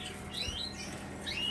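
Mosaic canaries, including a mosaic hen, chirp in a cage: a few thin, bright chirps and short trills over a steady background hiss, moderately near, with no talking.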